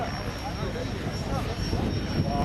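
A helicopter drones steadily overhead with a throbbing rotor hum at the Wings and Wheels 2012 show, while a voice talks over it nearby.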